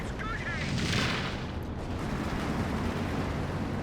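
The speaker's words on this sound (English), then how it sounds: "Artillery as well, now coming in on the AT gun. Katusha as well." A Katyusha rocket artillery barrage in Company of Heroes 2 produces a dense, continuous rumble of overlapping explosions, loud and sustained, with battle noise filling the mix throughout.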